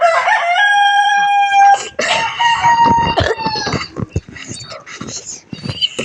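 A multicolored rooster gives a loud, close crow, followed by clucking and other fowl calls, with someone speaking briefly over the birds.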